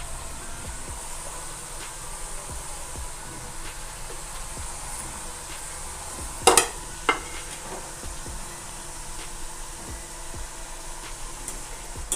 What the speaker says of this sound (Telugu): ఇదే విధంగా అన్ని చిప్స్ ఆయిల్లో వేయించుకుందాము